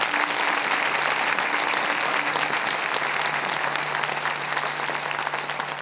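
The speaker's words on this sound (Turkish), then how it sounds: "Alkışlarla alalım lütfen." A concert hall audience breaks into steady, full applause that continues evenly throughout, with a faint low hum beneath the clapping.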